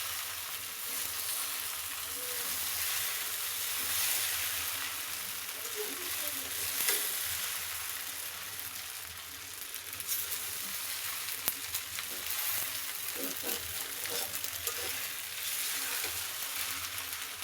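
Red goat meat curry frying in a pan with steady sizzling and occasional stirring scrapes, close and continuous, with faint voices in the background.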